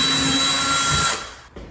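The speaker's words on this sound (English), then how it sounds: "So I got a 3/16 inch drill bit." A power drill fitted with a 3/16 inch bit bores a hole into a wall for a shelf bracket, giving a steady, close whine for about a second before it winds down and stops.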